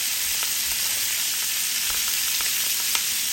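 Filet mignon basted in a pan with thyme, rosemary, olive oil and butter gives a steady, close sizzle and hiss of frying fat, with occasional soft pops and no talk.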